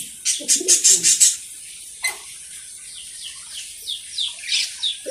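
Pigeons on a farm with soft cooing and a burst of rapid high chirps and calls, followed by a series of short bright call notes, all close and clear without talk.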